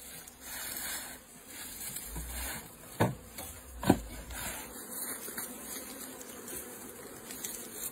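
A steady buzz of honeybees fills the air as a beehive is opened, with two sharp wooden knocks a second apart partway through.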